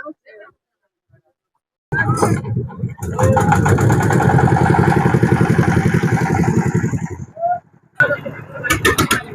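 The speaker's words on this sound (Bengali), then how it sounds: "আমাদের নৌকাটি স্যালো মেশিনের দ্বারা স্টার্ট করা হয়েছে" A small diesel shallow pump engine powering a river boat on the Brahmaputra chugs loudly and rhythmically for several seconds, stops briefly, then thumps back up, close by.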